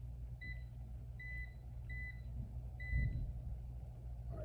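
A multimeter gives short beeps during a continuity test on wires. Four brief, evenly spaced high tones sound faintly over a low background hum.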